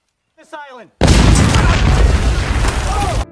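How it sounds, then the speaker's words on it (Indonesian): A booby trap explodes near a cave in a wartime setting: a sudden loud boom bursts in after a brief voice, followed by a sustained rumbling roar and debris noise that slowly fades. "tiba-tiba terjadi ledakan"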